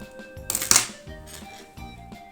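Scissors snip off a yarn tail while crocheting amigurumi cherries: one quick crisp cut near the middle, close and fairly quiet, with soft handling noises and hums around it and no talk.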